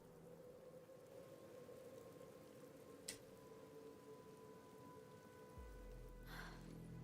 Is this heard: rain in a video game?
yes